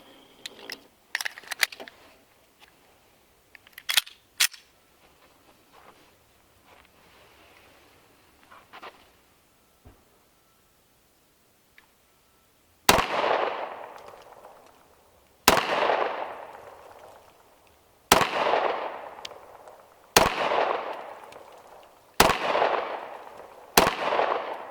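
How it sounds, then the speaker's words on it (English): A 10mm 1066 pistol fires six loud, sharp shots spaced roughly two to three seconds apart, each with a ringing decay, after quieter handling clicks and rustles. "let's go ahead and put a few rounds through it"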